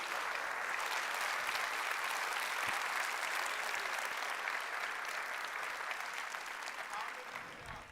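Sustained applause from a large church congregation filling a room, steady and loud, slowly fading near the end.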